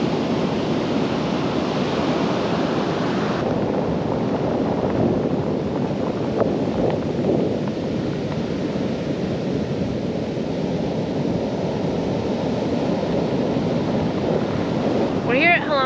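Ocean waves roll onto a beach at a Santa Barbara County park, a steady loud wash of surf mixed with wind noise on the microphone.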